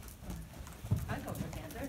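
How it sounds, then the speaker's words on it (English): A horse walk-trotting in a round pen, soft hoof thuds on ground with a voice speaking over it. "She's walk trotting her in the round pen right now."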